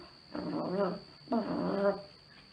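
A voice imitates the growling of a hungry crocodile's stomach with two drawn-out, groaning rumbles separated by a short pause.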